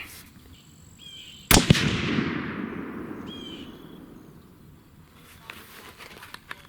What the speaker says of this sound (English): So let's go ahead and fire this last group, call it a day.